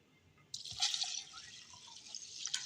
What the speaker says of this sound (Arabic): ومعايا هنا كوبايه لبن هحطها كده معاكم